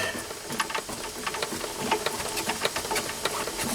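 A Myford lathe spindle is wound slowly by a hand crank fitted to the back of the headstock while setting up reverse screw-cutting, giving a steady run of close mechanical clicks and gear chatter with no talk.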